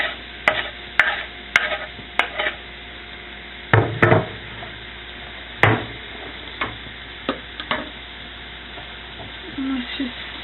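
Chopped ingredients are tossed and stirred in a skillet, giving a series of sharp clacks and knocks at uneven intervals over a faint background hiss, with no voices.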